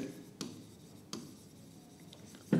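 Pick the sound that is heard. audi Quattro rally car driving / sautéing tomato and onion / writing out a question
writing out a question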